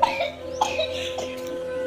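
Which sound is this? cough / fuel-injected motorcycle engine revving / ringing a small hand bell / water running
cough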